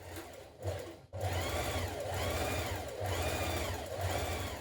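A sewing machine stitches a 1.5 cm seam on a Simplicity 9240 sweatshirt, starting with a brief stop-start. It then settles into a steady, close, rapid whirring hum with a rhythmic, pulsing chatter, and no talking.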